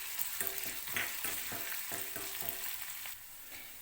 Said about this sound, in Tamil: சேர்த்துட்டு இப்போ இதை நல்லா கலந்து விட்டுருங்க.